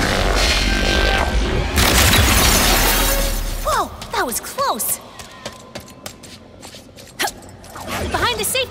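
Glass shatters in the video game Ratchet & Clank Rift Apart: a loud crash, then a spill of bright tinkling shards and scattered clinks fading over several seconds amid other game effects.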